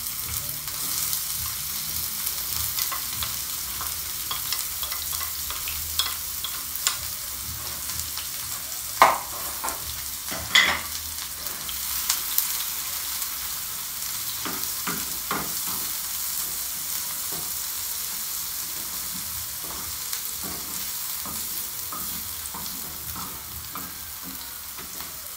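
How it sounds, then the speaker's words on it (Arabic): Onion sautéing in a pan gives off a faint, continuous sizzle for a long stretch. A few sharp clicks and utensil taps rise above the low, even hiss. "ندير هاد البصله ديالنا تشحر"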